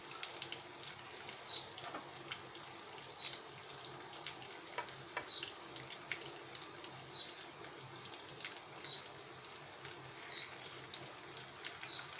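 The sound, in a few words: teasel gourd (kakrol) pieces frying in a pan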